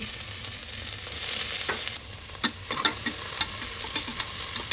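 Onion with green chilli frying in a pan until brown, a steady close sizzle broken by several sharp scraping stirs and clicks of a utensil against the pan.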